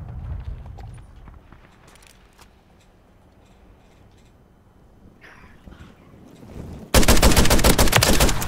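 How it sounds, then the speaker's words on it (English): Gunfire from a KV Broadside shotgun fitted with the JAK Jawbreaker conversion kit in the video game Modern Warfare 3: scattered shots early on, then a loud, sustained automatic burst fills the final seconds. "in today's one we're using the all new JAK Jawbreaker conversion kit for the KV Broadside shotgun"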